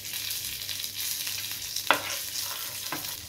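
Chopped cashews and raisins fry in a pan with a constant close sizzle for a Malabar unnakkaya filling. A spoon stirs them, with one sharp clank against the pan and a softer knock after.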